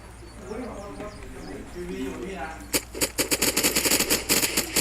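In the video game Unturned, a machine gun fires a rapid run of loud, evenly spaced bursts after a stretch of someone talking, with his voice continuing over the gunfire.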